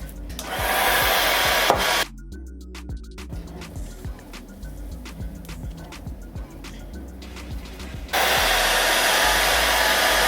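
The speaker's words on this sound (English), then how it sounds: "And then I'm gonna blow dry it on cool." Hair dryer run on its cool setting while a lace wig is installed, a steady broadband blowing that drops out briefly in the middle, leaving quieter handling noises, then resumes at full strength.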